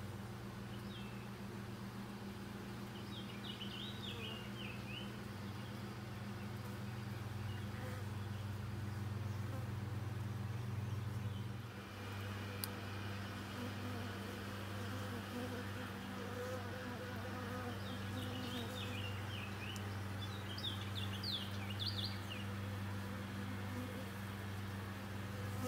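Honey bees swarm around a hive while being moved from a bait box to a deep hive, producing a steady, dense buzzing drone close by with occasional sharper chirps, and little talk over it.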